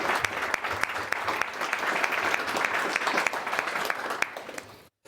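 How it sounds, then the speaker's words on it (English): Loud, sustained applause from a crowd fills the room, dense and steady for several seconds before cutting off abruptly. "So I want to give all of you and all of La Marzocco Germany a round of applause"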